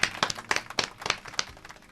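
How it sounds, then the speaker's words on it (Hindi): A handful of distinct, sharp claps in an uneven rhythm, fairly close and moderately loud, for film director Hrishikesh Mukherjee on a radio-style show. "सो जोरदार तालियां ऋषिकेश मुखर्जी के लिए"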